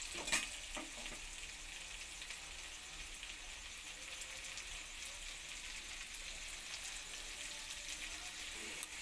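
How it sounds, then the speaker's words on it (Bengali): Potato pieces lightly frying in oil in a pan, the first step of a pumpkin and egg curry, give off a faint, steady sizzle for several seconds with no one talking. "আলুগুলো একটু লাল করে ভেজে নেব।"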